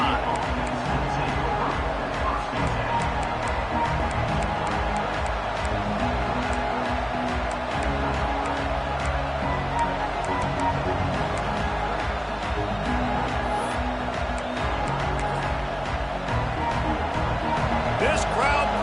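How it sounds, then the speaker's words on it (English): American football stadium crowd at a college game, Washington against eighth-ranked Oregon, keeping up a steady roar with sharp bursts and thuds on top, while a commentator talks over it throughout. "This crowd bringing the energy and noise early."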